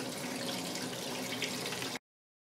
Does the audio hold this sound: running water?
yes